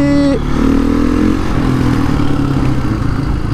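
A motorcycle engine idles and rumbles steadily at close range, with a brief higher whine at the start, no talking.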